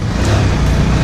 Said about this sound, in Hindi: मेरे बाइक के साउंड से समझ ही रहे होंगे कि कितना स्ट्रगल करना पड़ रहा है इतने हिट में उठने के लिए।